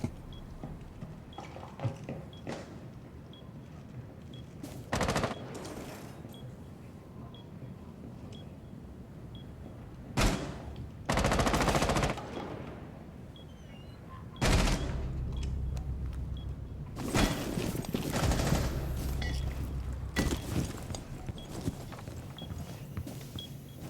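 Bursts of light machine gun fire in a video game, several loud volleys in short sequences separated by quieter stretches of game ambience.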